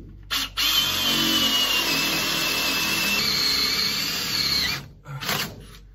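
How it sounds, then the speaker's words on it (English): A power drill bores a hole for a propane stove line, whining steadily and loudly for several seconds after a short start, then stopping and briefly spinning again. "Drill bit."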